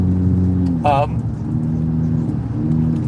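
A car passes a flatbed truck loaded with swimming pools on the road: a steady engine hum with a short rising rush as the truck goes by, while a voice talks over it.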